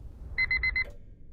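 An alarm clock gives four quick, bright electronic beeps in an even burst, fairly close and loud over a quiet low hum.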